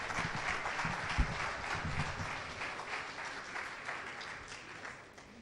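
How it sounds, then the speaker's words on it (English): A lecture audience claps in a full, steady round of applause that holds for several seconds and eases slightly toward the end, with no voices over it. "I think he deserves a better round of applause"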